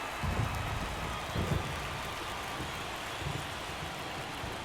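Steady rain hisses over a ballpark in a baseball video game, a dense even wash with a few soft low thumps, with no voices.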